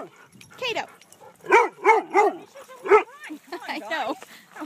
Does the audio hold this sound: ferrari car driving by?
no